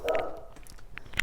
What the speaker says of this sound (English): the dog's just going to bark, so we'll keep this short